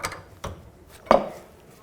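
A 3/8 drive ratchet tool is pulled off an inner tie rod on a 2001-2007 Volvo V70, giving a few faint metallic clicks and a sharper clunk near the middle, close by and without speech.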